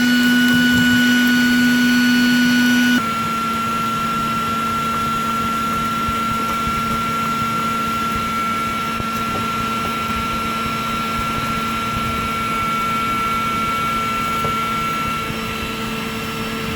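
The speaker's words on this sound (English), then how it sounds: "vacuum to control the dust that's flying out of this" A vacuum cleaner sucks built-up dust and a matted sheet of hair out of an Idylis air conditioner-heater, its steady whining roar close and loud throughout, with a strong tonal hum and no talk.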